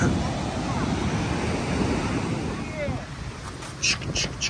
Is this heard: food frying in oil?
no